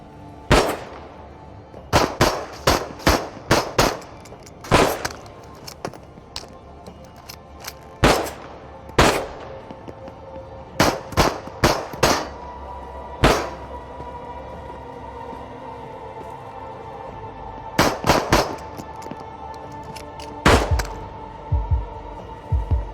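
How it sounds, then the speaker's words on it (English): Sharp gunshots from the VR shooter Into the Radius, fired singly and in quick bursts of two to five, loud and close, separated by short pauses over a low ambient drone. "Gunshot."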